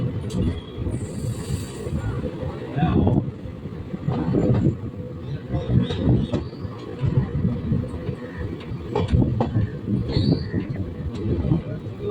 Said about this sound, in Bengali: ট্রেন এখন বেরিয়ে যাচ্ছে রসুলপুর স্টেশন দিয়ে